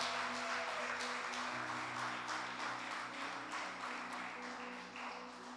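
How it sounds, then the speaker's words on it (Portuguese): Congregation applauding during a Portuguese-language church service, a dense, sustained wash of many hands clapping that fades slightly toward the end, with a low hum of voices and music beneath. "Aplaude ele."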